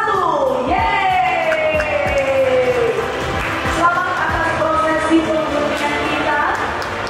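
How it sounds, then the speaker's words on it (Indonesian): An audience at the opening ceremony of T-Space in Bintaro cheers and applauds, a sustained crowd roar with whoops and clapping while a voice speaks over it. "Sekali lagi boleh kita beri tepuk tangan Bapak Ibu sekalian untuk diresmikannya T-Space"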